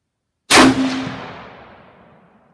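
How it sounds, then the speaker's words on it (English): A single loud 6.5 Creedmoor shot from a Savage Model 10 Predator Hunter rifle at a shooting range, a sharp sudden blast after silence followed by a long fading echo. "let's send this 5th round down range"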